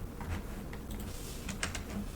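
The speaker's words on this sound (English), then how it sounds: "He's typing." Someone types on a computer keyboard, with sparse, irregular key clicks that are faint and close over a low background hum.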